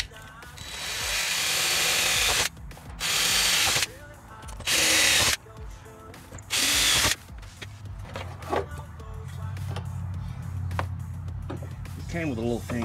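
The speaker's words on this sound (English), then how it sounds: "Drill the hose." Several short bursts of a power drill whirring loudly, each lasting about a second, followed by quieter clattering and handling noises.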